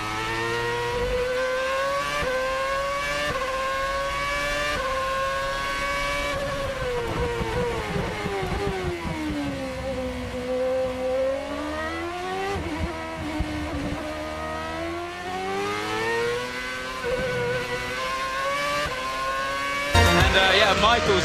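Formula 1 cars, including an Alfa Romeo, battle for position at the Barcelona circuit, their high-pitched engines rising and falling through revs and gear changes, loud and continuous beneath steady race commentary.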